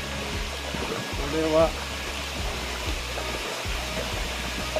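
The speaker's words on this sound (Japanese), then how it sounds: "今日はやんないけど滝の音がしてきましたね。" Constant rushing roar of a waterfall, broad and steady, heard from a canoe on Lake Akaya, Japan, with a person speaking briefly over it.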